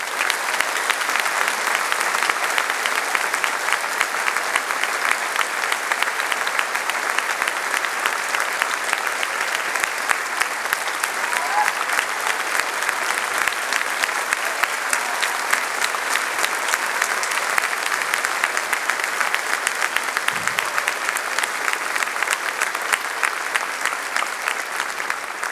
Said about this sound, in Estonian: Aplaus neile 3